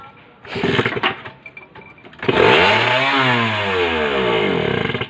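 A Kawasaki Ninja motorcycle engine, being tested with a carburetor, revs up loudly and holds a high, steady drone, with a rising and falling pitch and a rough clattering edge, close to the listener and with no talk.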